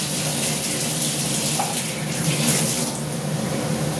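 A steady, loud stream of water is poured into a pan of cooking gravy made with onion and spice paste, a continuous gushing pour that runs unbroken for several seconds with no voices.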